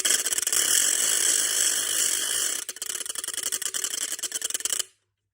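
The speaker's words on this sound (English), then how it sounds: "That's called a ratchet." A wooden ratchet noisemaker cranked by hand gives a loud, continuous rattling clatter of rapid clicks that runs steadily, then turns choppier and uneven before stopping abruptly.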